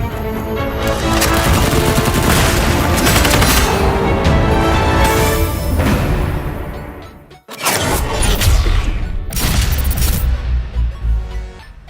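Bursts of HVK-30 rifle fire in Call of Duty Mobile, loud and dense, with rapid overlapping shots and game sounds filling most of the stretch, a brief drop to near silence, then more shooting.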